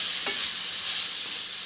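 Vegetable noodles stir-fried in a pan while salt is mixed through, giving a steady close hiss of sizzling with a brief scrape of stirring early on and no voices.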